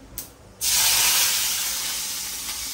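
Curry leaves hit hot oil seasoned with turmeric, bursting into a sudden loud sizzle after a brief tap, then a steady close hiss that slowly fades.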